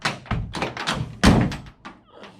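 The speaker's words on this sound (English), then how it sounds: "so shut the door" A 1955 Chevy gasser's door shuts with a dull, solid thunk, one of a handful of close, short knocks and taps from the door and lock area, with no talking.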